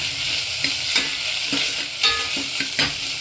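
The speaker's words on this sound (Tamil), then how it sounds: "கொஞ்சம் உப்பு போட்டு வதக்கலாம் வெங்காயம் நல்லா வதங்கணும்" Onions sautéing with salt in a pan make a continuous close sizzle broken by rhythmic scraping stirs of a spatula, with no voices.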